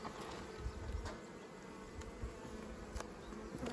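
A honeybee swarm buzzes at a hive in an apiary, a continuous dense hum with individual bees zipping past the microphone, moderately quiet and steady throughout.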